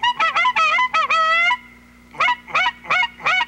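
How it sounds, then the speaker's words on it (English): Geese on a duck hunt honk loudly and close, a rapid burst of harsh calls, a pause of about half a second, then four more spaced honks against a quiet background. "Well, here's some geese."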